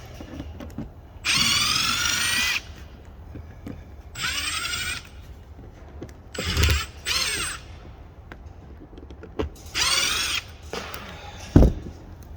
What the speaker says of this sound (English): So you can force your gun over the screw, even though there's a little bit of sealant still stuck to it.